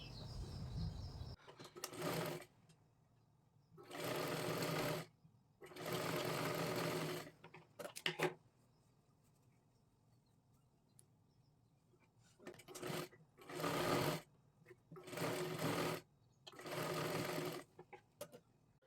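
A sewing machine stitches a katori blouse in a series of about seven short, loud whirring bursts separated by quiet pauses, close up and without talk.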